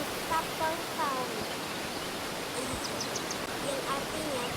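A waterfall in the Super Bear Adventure video game rushes as a steady hiss of broadband noise, with faint bird chirps and small game chimes layered over it.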